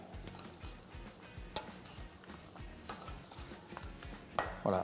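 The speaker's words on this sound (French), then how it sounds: "Donc on mélange délicatement." A utensil gently stirs a mixture with vinegar in a bowl, with soft repeated scraping strokes and occasional light clinks, quiet and close.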